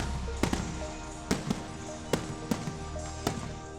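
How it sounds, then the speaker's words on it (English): Fireworks exploding in the sky at a pyrotechnics show, a series of sharp cracks and pops spaced at irregular intervals over a continuous background rumble and murmur, heard from some distance. "they're watching the fireworks explode up here"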